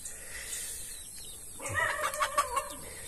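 Chickens at a small breeding station, a few soft clucks and short calls coming in quick succession after a quiet stretch, faint and nearby.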